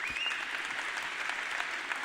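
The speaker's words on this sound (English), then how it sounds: "Give her a round of applause." An audience claps steadily for a woman invited up on stage at a self-confidence talk, a dense, even wash of applause lasting about two seconds with no voices over it.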